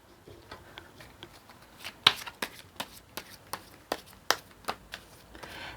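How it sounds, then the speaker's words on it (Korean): Tarot cards shuffled by hand in quick riffles and snaps, a steady run of about a dozen sharp papery bursts, close up and without talk. "카드 섞어보도록 하겠습니다."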